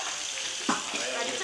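Butter and garlic sizzle in a hot pan, a bright continuous frying hiss with a brief louder crackle midway, close and steady throughout.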